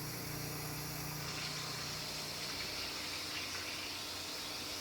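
Liquid cold process soap batter poured into a bowl at a steady, fairly quick pace, a continuous close splashing wash of liquid with no talking.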